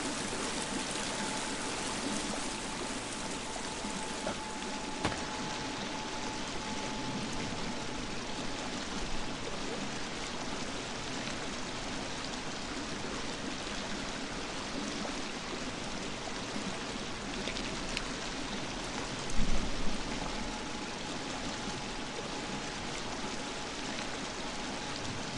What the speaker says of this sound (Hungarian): nagyon hangos itt a víz, nem hallok semmit